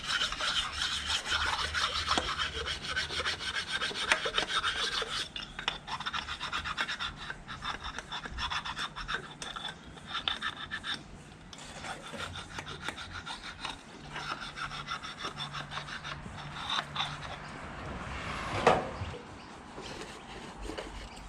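Rasping and scraping strokes work over the manifold mounting surfaces of a Ford 302 Cleveland engine in a Ford P6 LTD, a close, irregular run of scratchy rubbing with brief pauses and one sharper scrape near the end.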